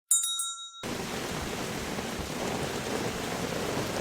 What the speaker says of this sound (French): je vous parle depuis un dimanche sous la pluie